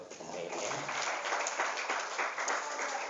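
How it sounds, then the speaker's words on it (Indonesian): Dense applause fills the room from a large audience of female religious teachers at a motivational teachers' seminar in Gontor, a steady wash of many hands clapping without a break. "Tepuk tangan buat kita ya"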